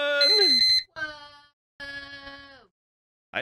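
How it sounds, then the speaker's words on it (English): A countdown timer alarm goes off in three loud harmonic electronic bursts separated by short silences, the first sweeping and warbling, then a fourth burst begins at the end. "I didn't expect that little timer thing to go off."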